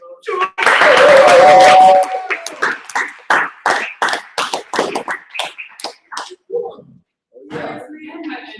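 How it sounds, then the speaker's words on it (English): Small audience applauding Miss Julia Rose at an information session, a short burst of clapping that thins into scattered individual claps and taps, with voices talking briefly near the end. "Everyone give another round of applause for Miss Julia"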